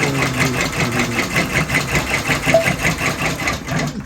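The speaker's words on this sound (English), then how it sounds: "I'm just going to stitch something right on top of this map." A computerized embroidery machine stitching a large logo onto a map held in a 14x14 Mighty Hoop, giving a steady, close mechanical whir with rapid rhythmic needle pulses throughout.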